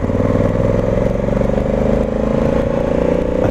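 A Honda Africa Twin motorcycle pulling away from a stop in third gear, a loud, close, steady engine drone with a throbbing pulse that holds throughout.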